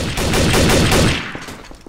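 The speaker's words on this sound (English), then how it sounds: "Gunfire." Rapid gunfire from a round of Garry's Mod Trouble in Terrorist Town, a loud burst of many quick shots that stops abruptly and leaves a fading echo.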